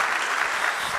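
An audience at a university sustainability lecture applauds, a dense steady clapping filling the room throughout.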